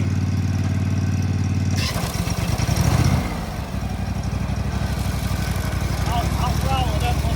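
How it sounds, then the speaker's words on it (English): A 24 horsepower zero-turn mower engine runs close by with a steady mechanical drone that shifts abruptly partway through and then holds an even, buzzing idle. "24 horse motor."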